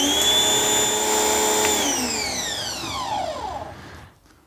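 A GreenWorks pressure washer fitted with a 3.0 nozzle runs during a flow test, its motor giving a loud, steady whine that slides downward in pitch as it winds down, then cuts out into near silence at the very end.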